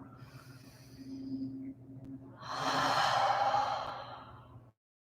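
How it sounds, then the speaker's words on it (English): An audible exhale during a yoga breathing exercise: a soft breathy inhale first, then one long, fairly loud sighing breath out, heard alone and close. "Take an inhale, then an audible exhale"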